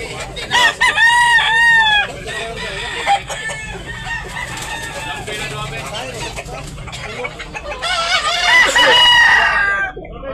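Several roosters crow loudly and close by, long strained calls at the start and again near the end, with clucking and background chatter between them.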